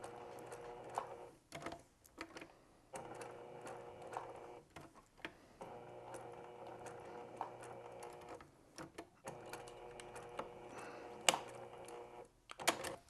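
A sewing machine stitches a nose onto a felt Santa Christmas card holder. The motor runs in steady bursts of a few seconds each, with short pauses between runs and no talking.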